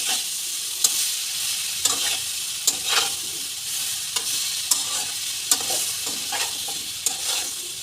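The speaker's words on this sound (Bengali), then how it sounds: "এবার আমার ভিজিয়ে রাখা সয়াবিনটাও দিয়ে দিচ্ছি, ভালো করে কষিয়ে নেব।" Soaked soybeans sizzle and fry in a pan for a spinach curry, a constant bright hiss punctuated by regular scraping stirs of a spoon roughly once a second.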